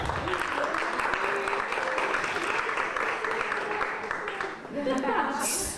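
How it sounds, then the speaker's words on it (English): A luncheon crowd at a women-in-leadership event gives a keynote speaker another round of applause. The clapping is steady and moderately loud, with voices mixed in, and swells again briefly before ending. "Let's give our keynote speaker another round of applause."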